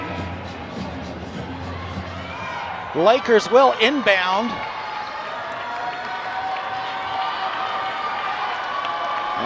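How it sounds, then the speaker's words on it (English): Basketball crowd noise fills the Convocation Center during a California vs Mercyhurst men's game, a steady roar of cheering and applause with a brief burst of tonal music in the middle. An announcer speaks over it. "the crowd fired up here at the Convocation Center"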